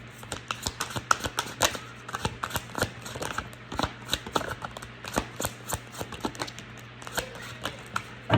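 Tarot cards being shuffled by hand, a series of crisp riffling bursts and taps repeating at an uneven pace under a low steady hum.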